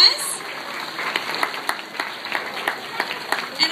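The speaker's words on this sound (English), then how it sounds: "Can we give these artists a wonderful big round of applause?" An audience applauds student artists at a school art event, a dense patter of many hands clapping at steady volume for a few seconds.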